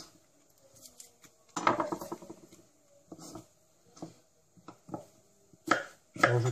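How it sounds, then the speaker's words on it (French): Knife coarsely chopping vegetables such as celery on a cutting board for spaghetti bolognese, in bursts of quick rhythmic knocks separated by short pauses, close and fairly clear. "Hop, je coupe grossièrement."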